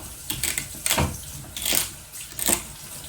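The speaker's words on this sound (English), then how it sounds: "I'm just rough chopping." Celery being rough chopped with a knife on a board, a few crisp crunching cuts in uneven bursts, close and fairly loud, with no talk.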